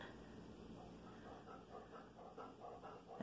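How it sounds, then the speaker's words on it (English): A stressed, upset dog pants quickly and rhythmically in a series of soft breathy puffs, faint and close in a quiet room. "that's my poor dog panting because he's so upset"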